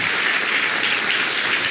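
At a Rapid City mayoral forum, an audience applauds the candidates. The clapping is steady and fairly loud, a dense wash of hands with no talk over it.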